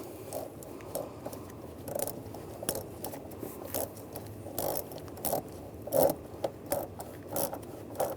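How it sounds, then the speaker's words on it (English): A worm-drive hose clamp is tightened on the intake of a 2011-2018 RAM 1500 3.6L V6, giving a quiet, close, repeated ratcheting rasp in short regular bursts, with no talking. "Tighten down the worm clamp."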